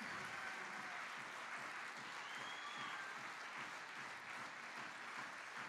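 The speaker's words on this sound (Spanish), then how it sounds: "Fuertes, fuertes aplausos." Applause from an audience at a rank recognition ceremony, steady and dense throughout, a broad wash of many hands clapping at moderate distance with no pauses.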